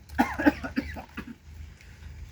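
A man's cough, caused by a blow from a mystic gem, comes as a close, harsh burst of several quick coughs in the first second, followed by quieter, fading breathy sounds.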